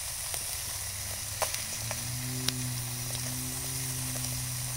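Vegetables and reheated stamina fritters sizzle and hiss in an aluminum tray over a charcoal grill, a soft, continuous frying sound broken by a few faint clicks of stirring.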